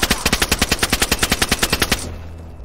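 A loud, close burst of automatic gunfire in DayZ, roughly twenty rapid evenly spaced shots over two seconds, then a brief fading tail.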